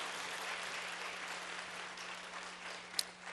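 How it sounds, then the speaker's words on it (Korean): A church congregation claps in praise during a worship service, a soft, even wash of many hands heard from a distance and held for several seconds. "우리 하나님 앞에 영광과 감사의 박수 한번 하시겠습니다."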